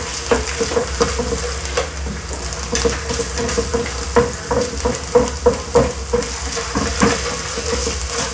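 Tomato paste fries and sizzles in a pan for spaghetti with a steady hiss, while a utensil stirs it with repeated scraping clicks at close range.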